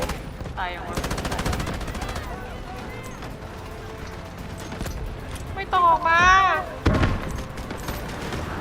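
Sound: continuous gunfire in video game Delta Force

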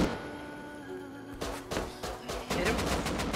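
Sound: gunfire in the video game Rust

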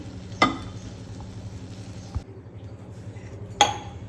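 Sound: pot placed on stove, sugar added for syrup

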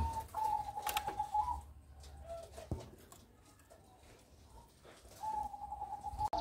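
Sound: young pigeons at the nest

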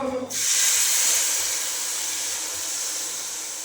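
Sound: water poured into hot chicken curry masala, hissing

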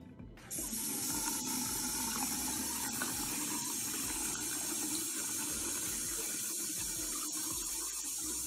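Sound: water running from a faucet in Jackson, Mississippi

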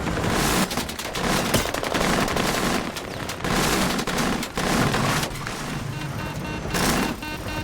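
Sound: gunfire from enemies in a shooter video game

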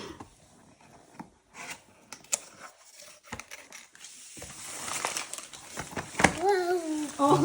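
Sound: gift wrapping paper being crumpled

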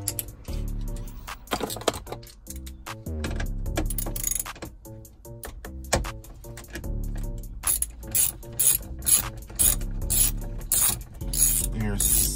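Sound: ratchet removing 7mm screws in Chevrolet Tahoe dash

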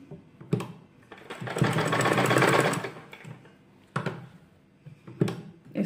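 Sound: sewing machine stitching a sleeve

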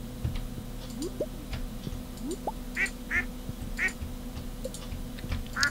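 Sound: ducks quacking in the video game Stardew Valley

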